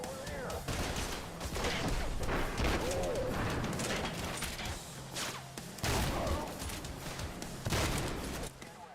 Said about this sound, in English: Back to the fire shotgun now